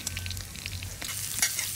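Ginger sautéing in a hot pan, a soft continuous sizzle with light stirring scrapes, close and fairly quiet, no voices.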